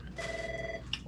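A telephone rings once indoors, a brief, moderately quiet electronic ring tone under a low background murmur.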